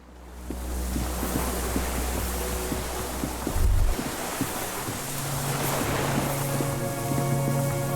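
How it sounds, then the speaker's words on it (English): Cargo ship signal horns in Disco Elysium sound as low, sustained droning tones that echo across open water, set against steady surf and wind noise, with a louder swell of the horn partway through. "Signal horns echo on the water."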